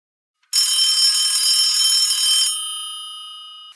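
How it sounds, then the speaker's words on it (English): A telephone bell rings in a steady, bright burst for about two seconds, then the tone hangs and fades away, sounding in a game from the Rhythm Heaven series. "The phone rings"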